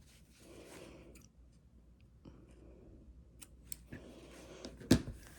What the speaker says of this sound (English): by snipping a little corner